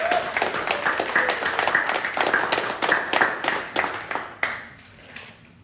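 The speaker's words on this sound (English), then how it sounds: "Give yourselves a round of applause just for that." Audience at a classic car restoration open day bursting into applause, a dense patter of many hands clapping for several seconds before thinning out to a few scattered claps at the end.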